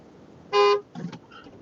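Car horn honking in traffic: one loud sustained blast of about a quarter second, then a second rougher, shorter honk and a faint distant toot, with no talk over it.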